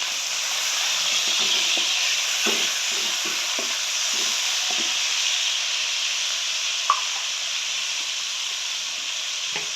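Green chillies and a medium tomato frying in about two spoons of hot oil, giving a steady, loud hiss and sizzle throughout with small crackles and a few faint utensil taps.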